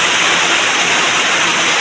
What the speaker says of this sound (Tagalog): Kusog kayong ulan guys.